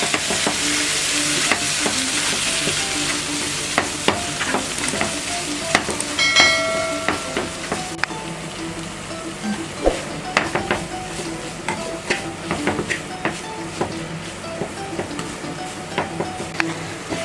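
Masala for tilapia fish sizzling in a pan as coconut milk is mixed in, with repeated spoon scrapes and clinks against the pan over a steady frying hiss.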